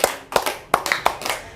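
Hand claps in a counted classroom rhythm game, sharp single claps in an uneven pattern of about six strikes across a short span, close and fairly loud, with no talking.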